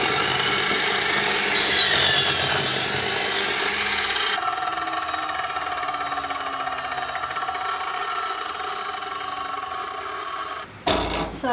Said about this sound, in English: So I set my miter saw up to 20 degrees, and then I can go ahead and cut all the pieces